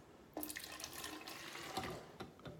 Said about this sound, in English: now take one of these glasses and pour it into there